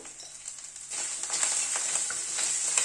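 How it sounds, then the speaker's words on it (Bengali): Ground roasted coriander, cumin and turmeric frying in oil in a pan for a cabbage curry, a soft continuous sizzle with gentle scraping strokes of a stirring spoon, close and fairly quiet. "গুঁড়ো মশলাগুলো দিয়ে জাস্ট একটুখানি নাড়াচাড়া করে নেব"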